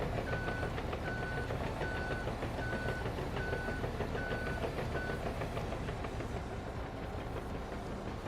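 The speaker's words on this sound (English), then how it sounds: "It's got a backup beeper." A truck's reversing beeper in Farming Simulator 22 pulses in a steady, evenly spaced series of about seven tones over a constant low engine rumble, fading out toward the end.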